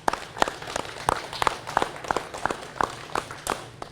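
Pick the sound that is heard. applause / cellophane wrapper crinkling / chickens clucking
applause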